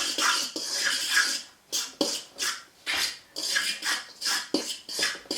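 A spoon scrapes and stirs breadcrumbs, grated cheese and chopped leek in a bowl, making repeated close rasping, rubbing strokes in an uneven rhythm with brief pauses between them, with no talking over it.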